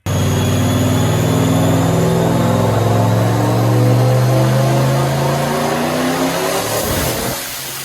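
A Ford Mustang with a 4.6-litre 2-valve V8 holds a loud, continuous engine note that climbs steadily in pitch, then drops away near the end with no one talking.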